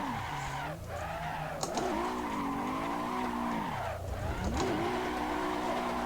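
A pro drift car in the Assetto Corsa racing simulator, with tires squealing and skidding in long sustained arcs over a steady engine drone across several seconds.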